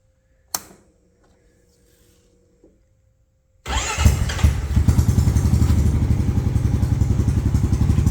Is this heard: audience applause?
no